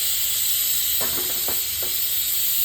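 Cumin seeds dropped into hot oil, giving a steady loud hiss with a few soft pops and crackles over it.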